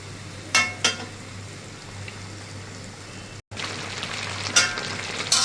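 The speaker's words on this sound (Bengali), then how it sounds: "এই তো আমার মুরগি ভাজাভাজি হয়ে গেল" Pieces of laying-hen chicken fry in a pan with a reduced amount of oil, giving a soft continuous sizzle and hiss with a few louder crackling pops, close and without speech.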